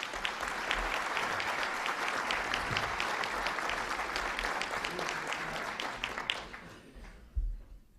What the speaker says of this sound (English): And a round of applause for our head table